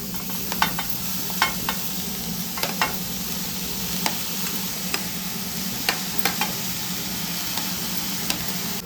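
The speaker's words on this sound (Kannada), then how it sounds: "ಇವಾಗ ನಾವು ಸಣ್ಣ ಕಟ್ ಮಾಡಿರೋ ಕ್ಯಾಬೇಜ್ನ ಹಾಕ್ತೀವಿ" Finely chopped cabbage sizzles in a hot pan for a cabbage paratha filling while a utensil stirs it. Sharp taps and scrapes break through a constant frying hiss, close up and with no talking.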